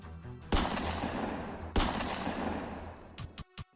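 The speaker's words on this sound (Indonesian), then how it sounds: "Terdengar suara letusan pistol sebanyak 2 kali" Two sharp, loud pistol shots about a second apart, each a hard crack with a decaying echo, followed by a few smaller clicks and knocks as the sound effect ends.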